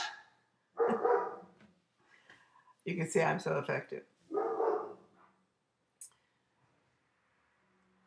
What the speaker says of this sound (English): My dogs activate whenever I'm doing a video.